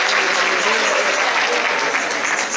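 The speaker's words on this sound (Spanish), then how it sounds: "Un aplauso para los hermanos del norte." At a church gathering, an audience applauds in a dense, continuous wash of clapping that stays loud and even for the whole short stretch.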